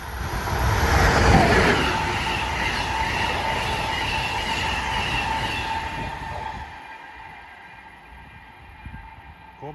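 Amtrak train 176, Roanoke to Boston, rushes past Princeton Junction station in New Jersey: a loud, close roar and rumble of wheels and cars that peaks early, holds steady, then thins out over the last few seconds.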